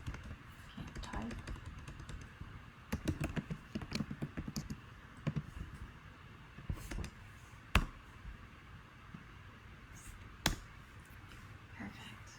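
Typing on a computer keyboard in a quiet room, irregular light clicks in scattered bursts and a few sharper isolated taps, close and fairly soft, with no talking.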